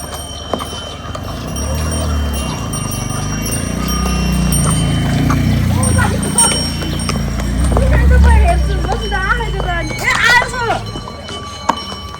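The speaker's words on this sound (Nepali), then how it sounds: "यो चाहिँ घोडा है" Horse hooves clip-clopping along a market trail at Muktinath in Mustang, where horse rides are offered, the hoofbeats rhythmic under loud nearby talk, birdlike chirps and shifting outdoor noise.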